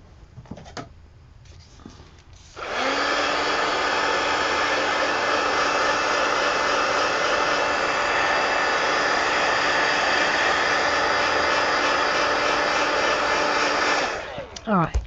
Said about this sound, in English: Let me hit that with the heat gun.